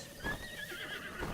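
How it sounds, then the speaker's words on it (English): Horse whinnying in Breath of the Wild, a drawn-out neigh across the whole moment with a faint clip-clop of hooves beneath it, fairly quiet and with no talking. "I'll just take this horse instead"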